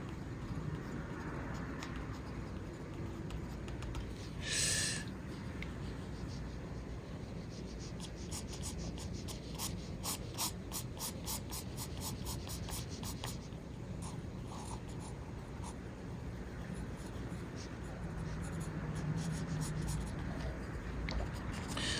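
A graphite pencil scratches and rubs across paper in a soft continuous hiss of shading strokes, close and quiet, with a stretch of quick rhythmic back-and-forth hatching.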